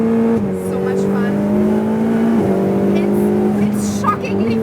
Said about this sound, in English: And that engine sound, perfection